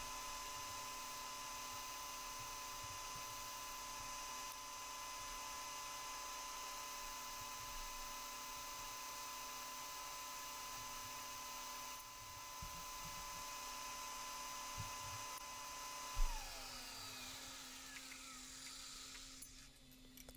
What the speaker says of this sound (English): And then a simple drill operation.